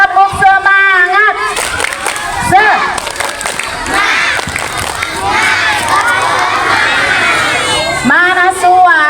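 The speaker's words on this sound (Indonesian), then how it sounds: "Coba tepuk semangatnya mana bareng-bareng? Tepuk semangat." Primary schoolchildren at an Indonesian state school shout and cheer together in a loud, close group, with bursts of excited voices that rise and fall but no distinct rhythmic clapping standing out.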